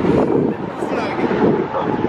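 Wind blows hard across the microphone in a dense, continuous roar, loud and unbroken for the whole moment.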